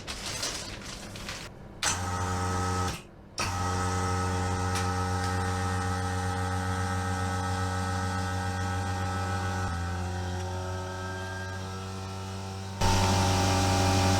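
A steady vacuum pump, pulling 20% vacuum while making a carbon fibre car bonnet, hums continuously, with a couple of brief dropouts early and a shift in tone near the end, close and even.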